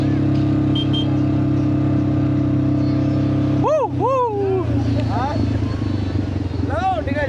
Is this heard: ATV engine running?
yes